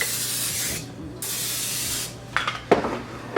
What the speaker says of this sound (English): I'm gonna spray it again so that it doesn't stick.